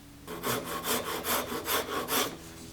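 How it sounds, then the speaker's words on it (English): A sharp rasp shaping a wood carving, about seven rhythmic rough strokes, close and fairly loud, each a scratchy burst with brief pauses between, no talking. "that's where I'm going to bring out the old rasp, because the rasp makes quick work of this"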